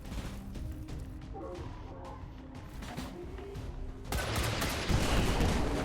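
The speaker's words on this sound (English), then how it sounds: "Let's hope that the robot wants to shoot the zombies and not me." Robot unit firing at zombies in XCOM 2: a muffled burst of game gunfire and impacts, swelling into a louder, dense crash of shots over the last two seconds, with game effects underneath.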